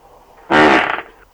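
A single loud, buzzing fart bursts out close up, lasting about half a second and trailing off into a quieter flutter.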